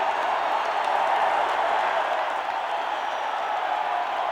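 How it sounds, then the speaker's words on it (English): A wrestling crowd in Minneapolis applauds steadily throughout, a dense, even roar of clapping and cheering with no pauses. "look at these fans stand and applaud the Mad Dog."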